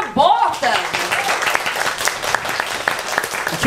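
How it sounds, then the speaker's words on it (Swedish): A crowd bursts into clapping for Krabaten at a stage show, following a short spoken line and carrying on as steady, moderately loud applause. "Applåd för Krabaten."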